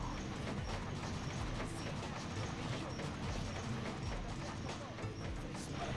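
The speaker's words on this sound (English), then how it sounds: "Get hit by the train." A train rushes past in the video game Sonic Adventure 2: Battle, making a continuous heavy rumble with rhythmic clattering and clacking that holds at an even level throughout.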